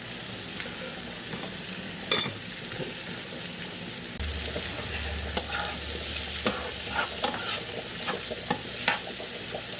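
Mushrooms browning in oil in a pan, with a steady close sizzle broken by occasional scraping and clacking as they are stirred around, plus a low rumble partway through; no talking.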